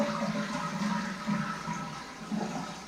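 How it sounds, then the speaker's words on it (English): A household toilet flushes nearby in a bathroom under renovation, a steady rushing and gurgling of draining water that continues for the whole stretch with no voices. "and then I'm going to flush the toilet."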